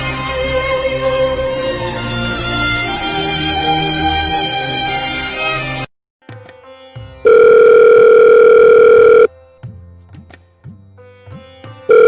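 A telephone rings unanswered during a school Hindi Day stage skit. Music plays first, then a loud, steady ringing burst sounds alone for about two seconds, followed by faint clicks.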